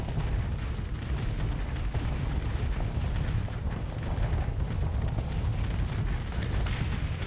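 Reaper torpedoes exploding against an enemy ship in the space combat game Starsector, a dense, continuous roar of rumbling blasts and bursts that stays loud for several seconds with no speech.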